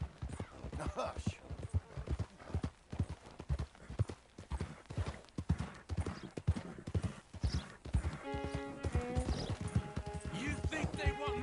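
Horse hooves clip-clop steadily in the Red Dead video game, a rhythmic near trot of repeated hoof strikes running throughout, with voices talking over it, a horse whinnying and music entering toward the end.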